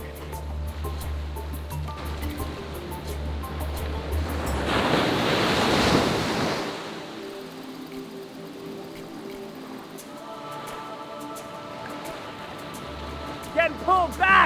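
Ocean surf washes onto a Costa Rica beach in a loud rushing swell that peaks midway and then recedes, with wind buffeting the microphone and people talking throughout.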